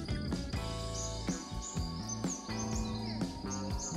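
Bright chirps and short tweets of birds in the morning, including spotted doves, scattered over a dense, steady bed of tonal music, fairly close and continuous throughout.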